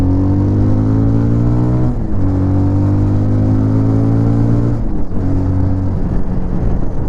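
Bajaj Pulsar 220F motorcycle engine idling and pulling through a U-turn, a steady close-up thrum with two brief dips in pitch as the throttle eases and picks up again.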